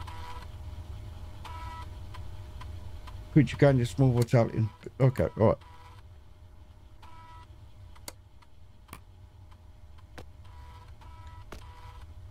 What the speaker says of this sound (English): I'm just printing her a leg off on a 3D printer.